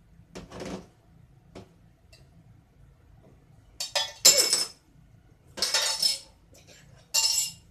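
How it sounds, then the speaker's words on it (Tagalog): Kitchen sounds while pumpkin juice is being made, with sharp glassy clinks and clattering bursts as a drinking glass breaks and shards rattle, several separate crashes spread across the stretch against a quiet background. "Basag yung baso."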